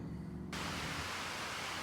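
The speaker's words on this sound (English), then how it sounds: "Hopefully that rain's not too loud." Steady broadband hiss of rain falling outdoors, loud and continuous, filling the whole stretch with no speech over it.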